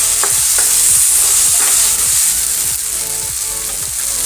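Ginger, garlic paste and bhut jolokia chillies fry in a pan with a loud, close, continuous sizzle, broken by repeated scraping strokes of stirring, with no talk.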